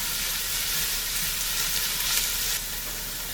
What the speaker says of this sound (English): go in with minced garlic and saute that for 1 minute